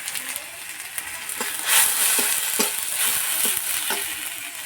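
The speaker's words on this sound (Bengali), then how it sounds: "টমেটো ভাজা হয়ে গেছে এবার দেবো হলুদ গুঁড়ো লঙ্কা গুঁড়ো" Tomatoes fry in a pan with turmeric and chilli powder, giving a continuous close sizzle broken by soft regular scraping taps of a spatula.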